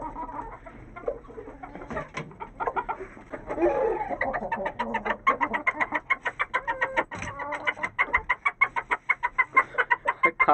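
Aseel chickens cluck busily while being fed cabbage scraps, a dense run of short repeated clucks and calls building to a steady, fast rhythm up close, with no talk over them.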